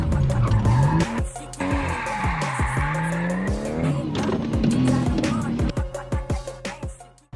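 Car drifting sideways during a driving training session, tires squealing in long wavering howls over a loud, steadily working engine, with repeated skids rising and falling close by.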